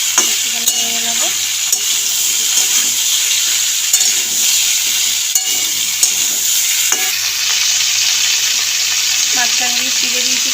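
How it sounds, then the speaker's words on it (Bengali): Ridge gourd added to frying stalks, potato and pumpkin and stirred in hot oil, a loud continuous sizzle with repeated close scrapes and clinks of the spatula against the pan, no speech. "এবার দিয়ে দেবো ঝিঙে। ঝিঙেটা দিয়ে একটুখানি নেড়ে নেবো।"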